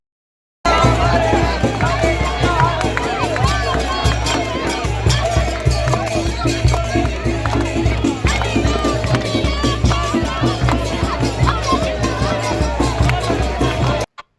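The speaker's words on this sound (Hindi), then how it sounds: "ये हरे रामा हरे कृष्णा कर रहे थे और सारे लोग उनके जो है भजन पे झूम रहे थे" ISKCON devotees chanting Hare Rama Hare Krishna while a crowd dances, a dense, steady wall of voices and movement that stays loud and unbroken from start to finish.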